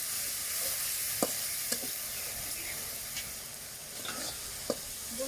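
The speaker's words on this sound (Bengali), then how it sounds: "উপকরণগুলো এবার তেলে দিয়ে দেব। ভালো করে এবার কষিয়ে নেব।" Ingredients sauté in hot oil with a continuous soft sizzling hiss, broken by a few light utensil taps.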